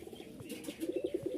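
A magpie pigeon, a fancy pigeon breed, gives a short, close, soft cooing phrase of several quick rolling pulses, preceded by faint chirpy bird sounds.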